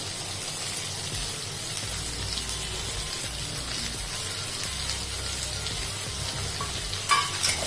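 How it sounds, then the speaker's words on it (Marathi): Onion and green chili sautéing in a pan give a steady, even sizzle and hiss, close and fairly quiet, with a brief clink near the end and no voices. "कांदा छान असा परतवून झालेला"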